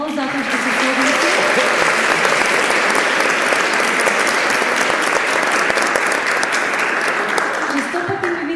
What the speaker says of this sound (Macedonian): Ве молам еден голем аплауз затоа што се согласи